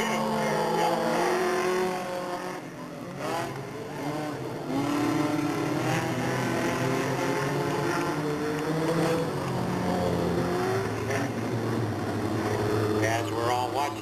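Stock cars racing at Delta Speedway in 1997 roar past with rising and falling engine whine, several cars in a loud continuous blur, while an announcer talks over the action.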